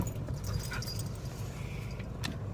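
Up close, a dog whimpers and pants in short, soft bursts over a low, constant background rumble, with no clear bark standing out.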